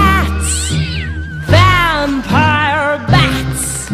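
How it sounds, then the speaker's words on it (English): A cat meows loudly and close in a children's Halloween song, giving several drawn-out, rising and falling yowls in a steady sequence with music beneath. "Big black cats"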